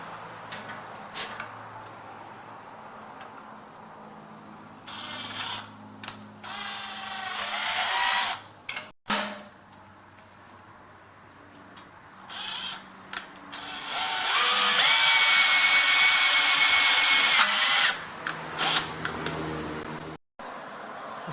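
A drill works through the leg and support block of a Workmate 300 folding bench in several bursts of close, whirring mechanical noise, separated by quiet pauses and clicks.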